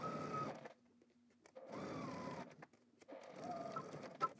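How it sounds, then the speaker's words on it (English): A sewing machine stitches fabric lining along a 3/8-inch seam guide in bursts, three runs of steady mechanical whirring separated by short pauses, close and moderately loud with no talking. "So let's head to the machine and do both of our stitches."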